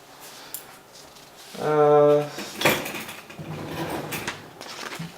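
A barber handles scissors and thinning shears, giving a short buzzing metallic rattle followed by a sharp clink and scattered lighter clicks of the steel tools, up close in a quiet room.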